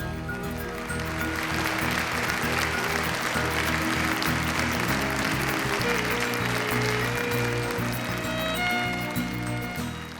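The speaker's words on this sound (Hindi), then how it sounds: "भाई मैडम के लिए तालियां हो जाएं" Steady, dense clapping from an audience greets a woman on stage in a drama scene, sustained and loud over a low music bed throughout.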